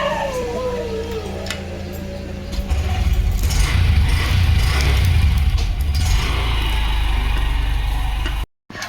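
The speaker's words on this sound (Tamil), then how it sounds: "வண்டி ஓட்டுறான்" A vehicle engine runs steadily while someone drives, a loud low rumble that swells after a few seconds and holds, with mechanical rattling on top, then cuts out briefly near the end.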